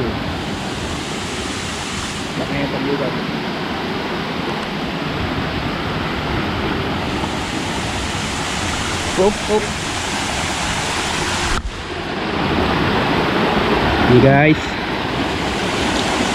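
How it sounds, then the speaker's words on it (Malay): A small stream-like waterfall along a jungle hiking trail to Gareg Waterfall rushes in a steady, broad wash of water noise throughout, with a person talking over it. "Seperti yang korang dapat dengar sekarang, berawan bunyi air terjun"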